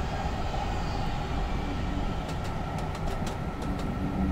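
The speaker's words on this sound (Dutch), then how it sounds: "Voor mij zijn dat vliegtuig geluid wat ik elke keer hoor." In Train Simulator 2020, a KLM-liveried Thalys high-speed train makes a steady, loud, airplane-like whine and roar while gaining speed on the line, with faint higher tones near the end and no voices.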